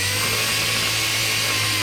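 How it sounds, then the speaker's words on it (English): Power sander working over the body of a retired Air Force cabover truck being prepped for paint with 320 grit, a continuous loud, close, even whirring drone with no break. "I love sanding."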